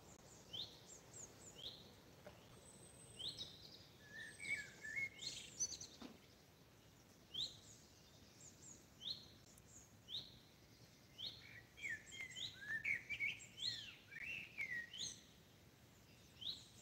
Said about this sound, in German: dass die Vögel so gut zu hören sind